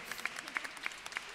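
Faint scattered clapping, like light applause from a small crowd at a distance, steady with soft individual claps.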